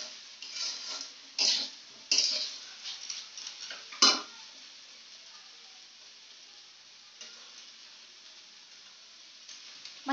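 A spoon scrapes and stirs fried rice with salt and sugar in a hot pan: several bursts of scraping over the first few seconds, then only a faint steady sizzle.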